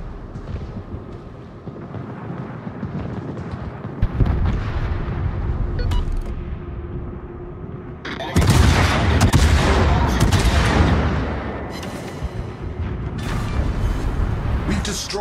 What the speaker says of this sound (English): We've destroyed an enemy battleship.